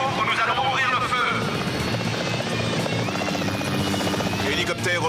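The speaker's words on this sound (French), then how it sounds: "Hélicoptère au lieutenant Dixon." A California highway patrol police helicopter during a pursuit, its rotor and engine roar loud and continuous as it flies close overhead, with radio-style voices talking over it.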